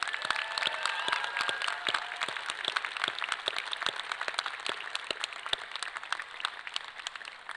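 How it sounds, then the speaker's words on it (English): Audience applause at a university commencement ceremony, with steady crowd clapping and distinct individual claps standing out, continuing at an even level throughout. "Please join me in one more round of applause for all of these dedicated professionals."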